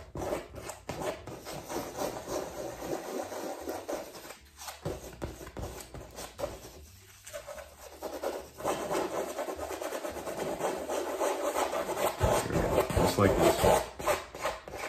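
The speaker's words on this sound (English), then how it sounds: "Now I'm gonna go probably about right here. Just start rubbing that in." Palette knife rubbing oil paint into a black canvas, a steady scraping, rasping texture that continues throughout at close range, with a person talking briefly over it.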